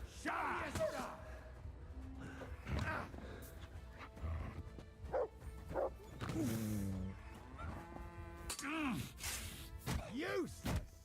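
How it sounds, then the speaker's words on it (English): A dog barks and yelps in several loud, close bursts while someone shouts over it in a heated outdoor struggle, voices and barks overlapping throughout. "Help me with this dog!"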